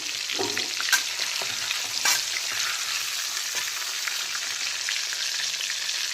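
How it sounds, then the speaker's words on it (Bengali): Chicken pieces fry in hot oil for a spicy chicken potato curry, giving a steady, close, loud sizzle with a few sharper crackles and no voices. "আর বাকি চিকেনগুলোকেও একইভাবে আমি ভেজে নেব।"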